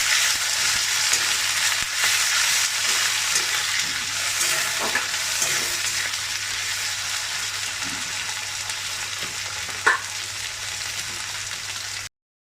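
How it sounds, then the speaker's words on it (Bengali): Minced meat and a little liver frying in a pan with half-fried onions for a home-style khichuri dish, a steady close sizzle with faint stirring scrapes and one sharp clink near the end. "পেঁয়াজটা হাফ ভাজা হয়ে গেছে, আমি দিয়ে দিচ্ছি মাংসের কিমা"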